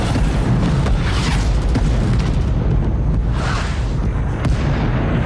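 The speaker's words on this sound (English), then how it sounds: "Artillery strike at" An artillery strike pounds the ground in the Vietnam War shooter Rising Storm 2, a loud, dense rumble of heavy blasts rolling on without a break throughout.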